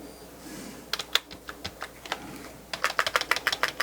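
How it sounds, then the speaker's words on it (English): Keys clatter on a computer keyboard during an attempt to enter setup on an Asus Z170-P motherboard PC, with irregular taps followed by a quicker run of repeated close, crisp presses. "I'm hitting del."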